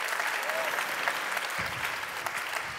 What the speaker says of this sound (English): please give one last round of applause for my co-host, Yasmin Behar.